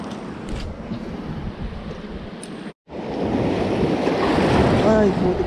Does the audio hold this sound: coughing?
no